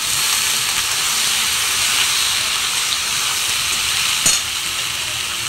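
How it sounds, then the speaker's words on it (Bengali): Chopped fresh vegetables such as eggplant, ridge gourd and drumstick tipped into hot oil tempered with nigella seeds give a steady, even sizzle and hiss, close and continuous, with one brief clatter near the end. "কালো জিরে ফোড়নে দিয়ে এরপরে দিয়ে দিচ্ছি সব সবজিগুলো, কেটে রাখা সবজিগুলো সবই দিয়ে দিচ্ছি।"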